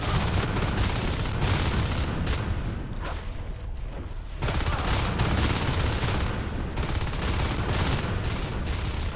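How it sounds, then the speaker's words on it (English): Dense gunfire and shotgun blasts from the Marines in a competitive match of the video game Natural Selection, with sustained rapid shots filling the whole stretch and a brief lull in the middle. "Pi just dancing around these bullets like he's an agent in the Matrix. Two shotgunners now"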